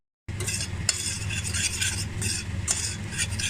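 Flour being stirred and roasted in two spoonfuls of butter for a béchamel in a pan, a steady close scraping and sizzling with occasional sharp spoon clinks against the pan.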